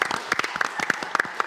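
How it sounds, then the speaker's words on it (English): A short burst of audience applause at a jazz festival event, dense irregular claps close and lively for a moment. "give another round of applause to Wildlife again for winning the ARIA of the Jazz"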